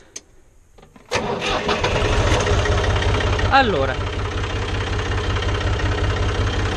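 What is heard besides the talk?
tractor engine starting and idling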